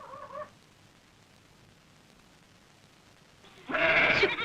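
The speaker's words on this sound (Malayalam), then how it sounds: "ആട് കരയുന്നു." A goat bleats twice, a short call at the start and a louder, longer one near the end, separated by quiet night-time stillness in a rural home.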